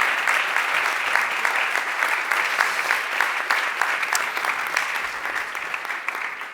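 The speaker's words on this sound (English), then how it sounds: "again, a big round of applause" A meetup audience on artificial intelligence ethics applauds as speakers are called on stage, a sustained, fairly close wash of many hands clapping that stays steady for several seconds.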